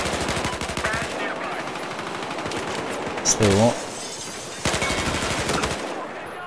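Rapid automatic gunfire from the video game Battlefield Hardline rattles in dense bursts, pausing briefly mid-clip before the shooting resumes. A player speaks briefly over the action.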